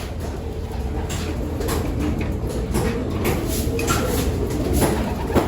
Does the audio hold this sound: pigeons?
yes